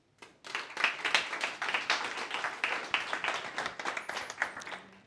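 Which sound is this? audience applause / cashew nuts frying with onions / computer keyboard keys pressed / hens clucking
audience applause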